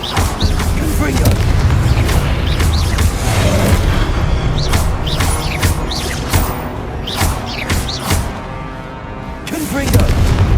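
Confringo blast curse from Hogwarts Legacy on PS5, a rapid series of loud, punchy explosive booms and bursts like artillery fire in a hectic fight, with spoken voices over the blasts.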